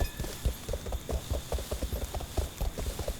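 Rapid hollow footsteps of people walking clatter in a steady clip-clop rhythm like horse hooves, close and continuous with no talking.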